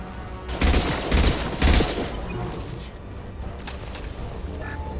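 Sci-fi weapon fire rattles through a firefight in Mass Effect, with several loud bursts of shots early on and then a lower, continuous mechanical din.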